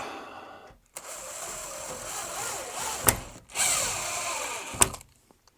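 A power drill drives screws into the rail fittings of sliding mirrored wardrobe doors in a bedroom, whirring in two close bursts separated by brief pauses, with sharp clicks near the end of each burst.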